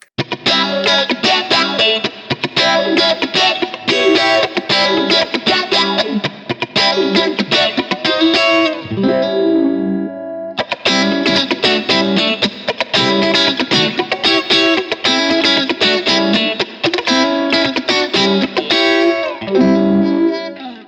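Electric guitar through an envelope filter pedal set to high-pass mode, playing distorted chords with a sweeping, filtered quacky edge, loud and continuous, with a brief pause midway before the playing resumes.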